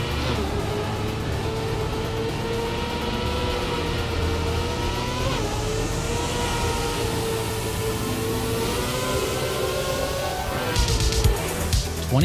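A race car in the Trackmania video game accelerates hard, its engine whine climbing steadily in pitch with a brief dip partway through, loud and continuous, with a short noisy burst near the end.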